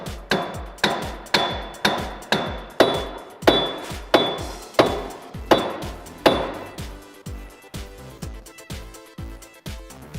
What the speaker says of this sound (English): you might want to use a mallet just to get them into place.